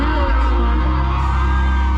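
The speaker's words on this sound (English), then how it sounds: "Let me hear the female them scream now" A sold-out concert crowd in Tampa, mostly women, screams and whoops loudly in one continuous wall of sound for about two seconds.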